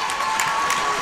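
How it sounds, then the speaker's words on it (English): A crowd roars and cheers wildly at a high school boys basketball game between FVHS and Hickman County, a continuous dense wall of noise with no break. "Crowd insane tonight. This is mental."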